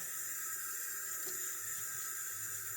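Tap water runs steadily into a sink while a rubber stamp is washed with ordinary hand soap, a constant close hiss of flowing water with no talking.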